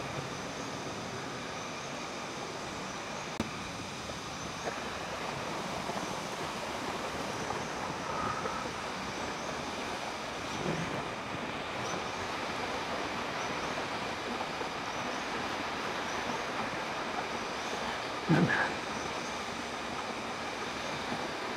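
A waterfall at Cabag Cave and Falls in Silang, Cavite roars as a steady broadband rush of falling water, constant and fairly distant, with no talking.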